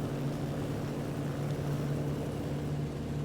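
Steady, continuous drone of a BF 108 Taifun light aircraft engine in flight in Microsoft Flight Simulator, a low humming tone with a constant level and a broad layer of wind noise around it.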